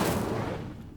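Incendio fire spell cast in Hogwarts Legacy, a single whooshing, crackling burst that hits hard at once and then fades away over about a second, with no voices.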